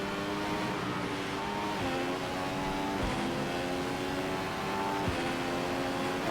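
A Formula 1 race car engine in F1 2015 howls at high revs on the British Grand Prix circuit, loud and continuous, with pitch dipping at each downshift for the closing corners.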